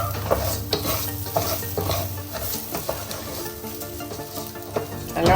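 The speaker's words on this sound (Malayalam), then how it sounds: "തീ അധികമാക്കിയിട്ട് വറുക്കണം." Rice frying in ghee over high heat, with continuous sizzling and repeated scraping stirs of a spoon against the pan, close and fairly loud.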